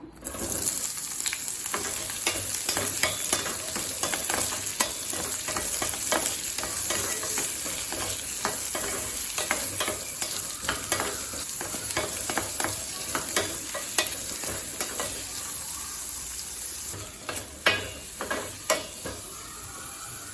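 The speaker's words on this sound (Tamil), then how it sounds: "இப்போ வெங்காயத்தை நல்லா வதக்கியாச்சுங்க" Two onions sauté in a pan for an onion garlic chutney, with a continuous sizzle and frequent scraping stirs for about twenty seconds, close and fairly loud, with no voices.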